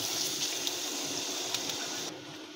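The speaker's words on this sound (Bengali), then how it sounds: "কষানো হয়ে গেছে, এবার আমরা জল দিয়ে দেব।" Water pours into a pan of fish curry (boro fish jhal), a continuous gushing hiss that ends abruptly near the end and drops to a quieter background. Close and steady, without speech.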